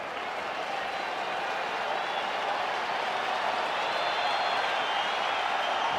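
A crowd of more than 50,000 at a Phillies–Dodgers baseball game at Dodger Stadium applauds and cheers in a steady, dense roar that holds for several seconds, with broadcast commentary faintly beneath it.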